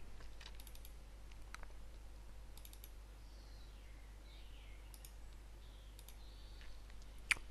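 A few sharp computer mouse clicks, faint and close, come in scattered short bursts over steady low hum and background noise while a program is uninstalled.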